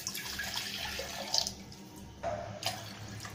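About two cups (half a litre) of water poured into a pan in a home kitchen, a steady trickling run of water with a couple of brief louder splashes, fairly quiet and close.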